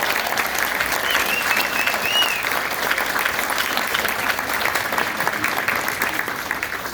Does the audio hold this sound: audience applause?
yes